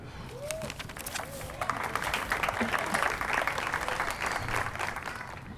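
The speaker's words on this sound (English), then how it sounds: "Another round of applause for Miss Shirley Johnson, a living legend." Applause from a crowd swells and holds steady, with a voice speaking briefly at the start.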